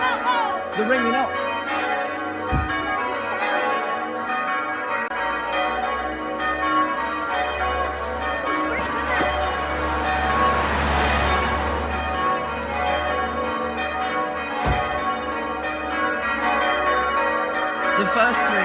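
Full peal of church bells at St. John the Baptist church, Tideswell, ringing loud and continuous with overlapping, clashing strikes and shimmering resonance throughout, no talking.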